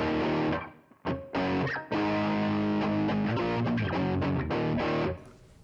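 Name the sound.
guitar distortion effect on Fractal FM3 modeler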